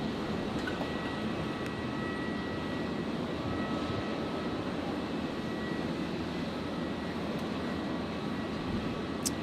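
A Jetstar jet airliner departing Brisbane airport from runway 01, a continuous broad engine roar held at steady loudness throughout, heard from a distance with no talking.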